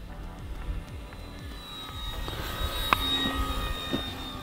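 An E-Flite T-28 Trojan RC warbird model airplane flies in on approach, its electric motor giving a faint, steady whine that slowly rises in pitch over low background rumble, with no voices.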